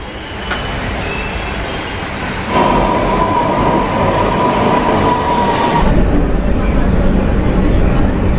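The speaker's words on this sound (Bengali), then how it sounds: "এত তাড়াতাড়ি দক্ষিণেশ্বরে পৌঁছানো যায় একমাত্র এই মেট্রোতেই।" A Kolkata metro train rumbles loudly underway toward Dakshineswar, a dense roar with a rising whine that steps up partway, then a sudden shift as the tone drops near the end.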